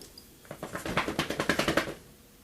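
A dog, just in from the snow, shakes its ears in a quick burst of about a dozen rapid flapping slaps that build and then fade over roughly a second and a half, close and moderately loud.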